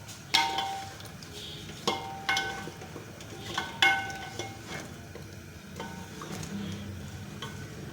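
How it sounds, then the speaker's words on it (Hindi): Mutton for kachnar gosht cooking in a pot on a medium flame, with a soft continuous sizzle under sharp clinks and scrapes from a spoon stirring against the metal every second or two, close and alone. "अब हम इसको नॉर्मल आंच पे भून लेंगे अच्छी तरह से।"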